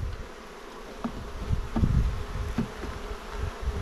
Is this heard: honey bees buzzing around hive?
yes